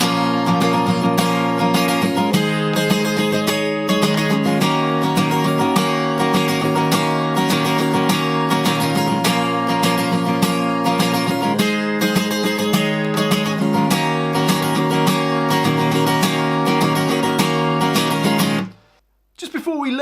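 Acoustic guitar with a capo plays the verse of a song, steady strummed chords filling nearly twenty seconds, loud and close, before a brief cutoff near the end.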